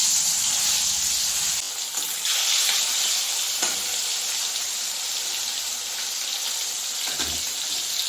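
Fish deep frying in plenty of hot salted oil, a steady broadband sizzle that runs loud and continuous throughout with a few brief spatters and clatters, no voices.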